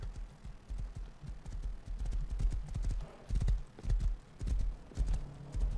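Hooves of a horse clip-clopping in an online survival video game, a steady near rhythm of hollow knocks running through the whole stretch with no talk.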